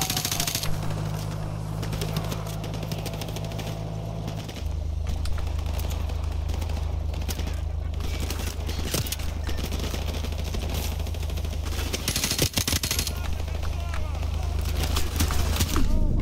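Video-game gunfire from Call of Duty 4 Modern Warfare rattles along in steady rapid bursts over a constant low rumble, mixed under game noise and occasional talk.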